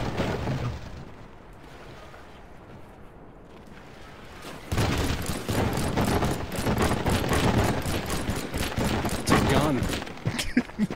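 Rapid bursts of gunfire from the modded video game Teardown crackle loudly for the second half, following a quieter stretch, with a voice talking over it at times.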